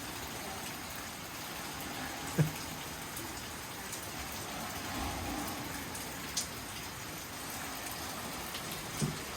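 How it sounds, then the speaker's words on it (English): Steady rain falls at a beach house in the Philippines with a soft, constant hiss, and a few louder drips land now and then. No voices. "Enjoying the rain, hun?"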